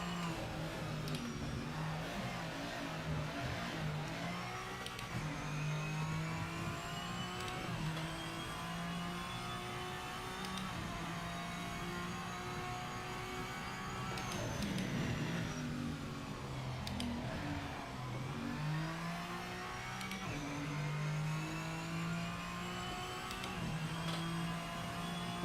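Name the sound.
N-GT race car engine in Project Motor Racing video game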